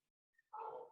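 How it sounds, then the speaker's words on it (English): A single dog bark sounds from a short distance, faint and brief, after a moment of near silence. "if you guys can hear barking"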